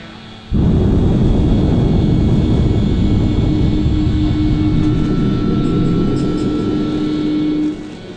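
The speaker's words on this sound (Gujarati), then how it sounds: "આપણું વિમાન ઉડાન ભરવાની તૈયારીઓ કરી રહ્યું છે, આપણા વિમાનને હવે આપણે ઉડાન ભરાવી રહ્યા છીએ." An airplane taking off begins with an abrupt, loud engine roar that holds as a steady broadband rumble with a rising whine, then drops away near the end. No voices are heard.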